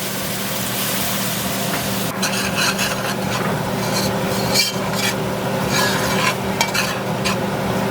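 Curry-seasoned chicken pieces fry in a pan with a loud, constant crackling sizzle, broken by scraping and stirring rasps partway through. The sound is close, and no one speaks.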